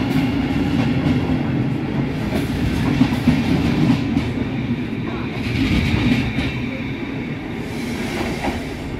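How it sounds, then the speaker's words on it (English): A long train rumbles steadily past on the rails at Carlisle, close and loud, with continuous wheel noise and faint clattering throughout. "It's quite a long train."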